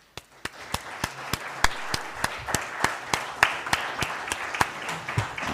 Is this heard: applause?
yes